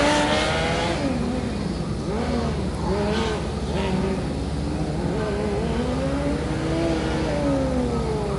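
A Formula Student race car engine at a 2013 All-Japan Student Formula endurance run revs and shifts continuously, its rising and falling whine carrying steadily over a loud, constant track background.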